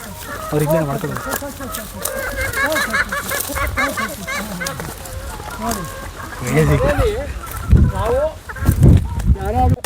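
Native (country) chickens on an organic farm cluck and call repeatedly close by, a busy flock chattering throughout, with people talking over them.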